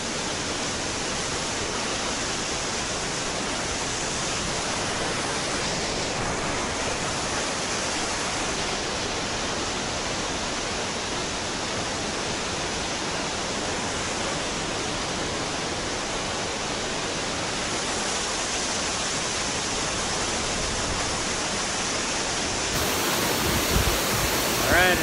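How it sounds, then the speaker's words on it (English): A waterfall in South Iceland roars as a constant, dense broadband rush of falling water that stays loud and steady throughout, with a slight wind buffet near the end. "Another waterfall."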